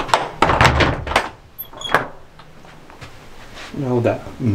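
An old wooden door in a church in the woods is handled, giving a few thunks and creaks among nearby talk.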